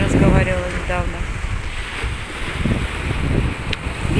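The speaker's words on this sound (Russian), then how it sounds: "Очень холодный пронизывающий ветер, несмотря на солнышко. Море тоже беспокойное." Cold, piercing wind buffets the microphone by a restless sea on a sunny coast in Turkey, a steady roaring rush with surf underneath, and a voice briefly heard at the start.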